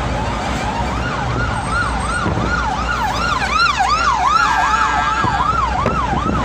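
A loud wailing emergency siren sweeps up and down repeatedly, close by, over steady road and engine noise with no talking.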